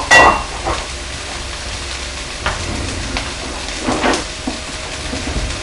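Chopped onion and sliced mushrooms hit smoking-hot olive oil in a pan, giving a steady close sizzle with a few sharper crackles and scrapes as they settle.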